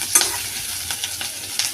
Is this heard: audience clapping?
no